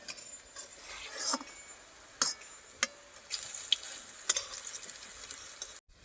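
Chickpea lentil fritters frying in hot oil and being flipped, a sizzling hiss broken by sharp scraping clatters of the turning utensil, with a brief near-silent gap just before the end.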